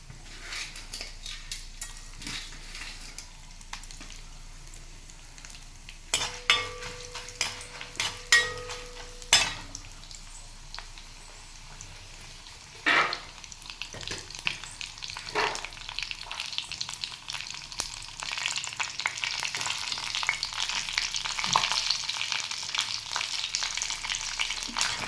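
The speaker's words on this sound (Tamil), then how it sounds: "இப்போ கடுகு வெடிக்க ஆரம்பிச்சாச்சு." Mustard seeds and dried red chillies spluttering in hot oil during tempering for a village-style drumstick leaf curry, with scattered pops and crackles that grow into a denser, continuous sizzle toward the end, plus occasional utensil clinks.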